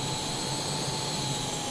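A fighter jet engine at full throttle in Microsoft Flight Simulator, a loud, steady, unbroken roar with a high whine running through it.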